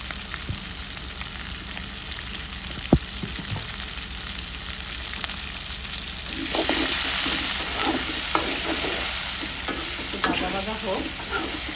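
Dried fish with beans, potato, eggplant and radish sizzles in a pan. The steady frying hiss swells louder about halfway through as scraping stirs and clatters join in, with no voices.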